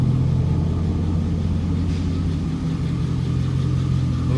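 A 2001 Chevy Camaro SS convertible with a 350 V8 idles in a deep, steady rumble, close and loud, holding an even burble throughout with no talk over it.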